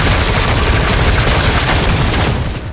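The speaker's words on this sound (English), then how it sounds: "harass the helicopter with gunfire" Dense, continuous booming gunfire in The Darkness video game, loud and close, rattling bursts aimed at a helicopter with no pauses, tailing off slightly at the end.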